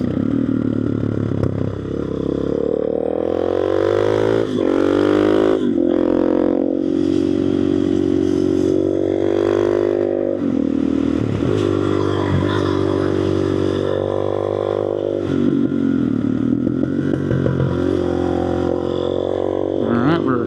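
A Suzuki DRZ400SM supermoto runs steadily on fresh race tires being scrubbed in. The single-cylinder engine drones loud and continuous, rising and falling with the throttle, close to the rider, with no talk.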